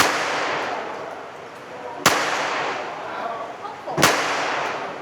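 Two sharp gunshots ring out at a shooting range in Pattaya, spaced about two seconds apart, each a loud crack over a steady background hiss.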